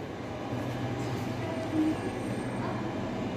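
A train rolls away from a platform in a steady, continuous rumble of rail noise that swells briefly midway, fairly close and with no talk over it.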